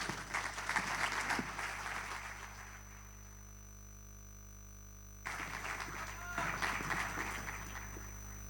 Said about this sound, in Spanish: Un forte aplauso.